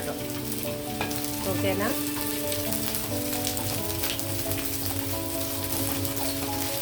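Carrot and potato pieces fry in oil in a pan with a steady, close sizzle and occasional stirring scrapes. A voice briefly speaks over it.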